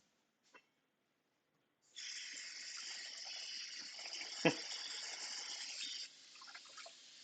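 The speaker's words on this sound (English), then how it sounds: "in the stream, you just hear uh, the water going the entire time" Kitchen tap left running during cleanup in a home cooking session, a steady hissing stream of water that starts after a brief knock, continues for several seconds with a sharp clatter partway through, then softens near the end.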